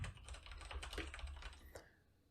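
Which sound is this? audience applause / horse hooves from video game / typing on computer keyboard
typing on computer keyboard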